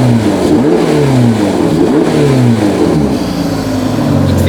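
A Ferrari Portofino V8 engine revs hard close by, several rising and falling sweeps of loud throttle blips that settle into a steady idle rumble, no voices over it.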